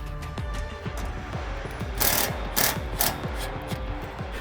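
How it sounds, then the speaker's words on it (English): A rapid ratchet clicks in a steady rhythm, with a few louder strikes mixed in, as bolts are run into a Rock Slide Engineering truck bed rack. "I'm gonna go to the other side and get the other 4 bolts installed."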